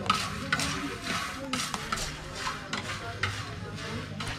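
Coffee beans are hand-roasted and stirred in Bali, giving a close, dry rattling scrape in repeated strokes over a soft continuous sizzle, with faint talk in the background.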